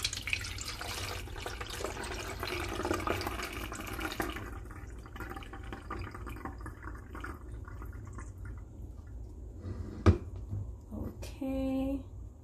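Fenugreek water pouring from a jar through a funnel into a bottle in a kitchen, a soft liquid trickle and splash that fades into drips and a few clinks, with no talk over it.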